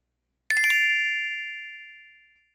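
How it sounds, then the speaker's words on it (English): A bright, clean electronic chime confirming a completed payment, one crisp multi-tone strike that rings out and slowly fades, heard alone in silence. "When I hear the chime, the payment is complete"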